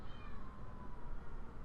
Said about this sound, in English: you can also hear the cat outside the door